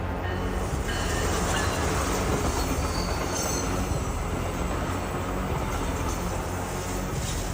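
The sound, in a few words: train passing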